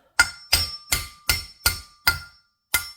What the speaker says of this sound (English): So we'll just hammer this one home now.